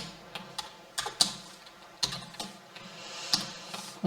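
Fingers tap a computer keyboard in quiet, uneven bursts of crisp, close clicks with short pauses between keystrokes, and no voices.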